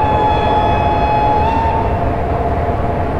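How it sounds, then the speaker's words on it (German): A locomotive horn sounds in the Train Simulator 2013 game, one long steady blast over the loud continuous rumble of a moving train. "Der Gegenzug, da müssen wir mal hupen."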